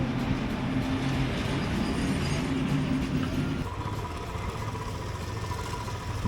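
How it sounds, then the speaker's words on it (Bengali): A freight train in Purulia rumbles past steadily with a low engine drone and rolling rail noise, loud and continuous throughout, no voices. "আবার মালগাড়ি।"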